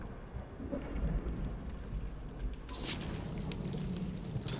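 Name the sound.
thunderstorm with rain in the video game Guardians of the Galaxy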